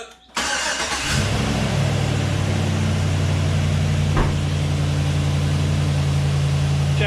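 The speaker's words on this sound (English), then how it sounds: "we'll fire this thing up, run it for a few minutes, and repeat" A 2017 Chevrolet 2500HD pickup engine starts and settles into a steady, loud, close idle with a constant low rumble, plus one brief knock partway through; nobody speaks.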